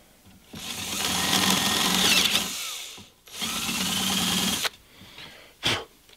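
A power drill with a bigger bit bores into wooden plates for an astronomy camera tilt rig, whining in two sustained bursts of roughly two seconds each, followed by a brief short spin-up.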